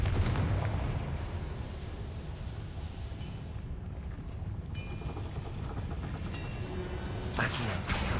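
Spell-blast explosion effect from a game: a loud, dense rumbling boom that fills the whole stretch, with a sharper burst near the end.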